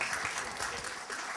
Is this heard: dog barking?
no